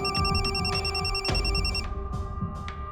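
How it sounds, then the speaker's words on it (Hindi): A phone on speaker rings while a call is placed to a doctor, giving repeated electronic trilling bursts in a steady pulsing pattern, loud and close, fading out toward the end. "तेरे डॉक्टर को फोन कर, उसको बोल दोबारा टेस्ट करना"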